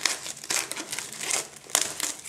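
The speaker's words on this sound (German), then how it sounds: "Die Folie abmachen." Thin plastic film wrapping crinkles and crackles as it is peeled off a limited-edition CD box set, close and irregular bursts of crumpling over a couple of seconds without speech.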